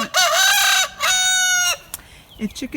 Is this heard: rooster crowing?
yes